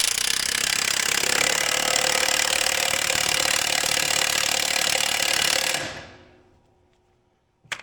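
An impact wrench fastens a bolt, hammering loudly and continuously for nearly six seconds before winding down into silence, followed by one sharp clack near the end.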